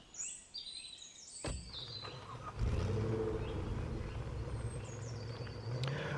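Car driving in the police game Police Simulator: Patrol Officers: birds chirp at first, then a low engine rumble starts partway through and holds steady, moderately loud, with no talking.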